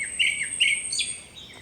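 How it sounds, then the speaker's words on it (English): A thrush sings in a summer forest: a few clear, high, fluting phrases come in quick succession at moderate distance over quiet woodland background, with no voices present. "That's a kind of thrush."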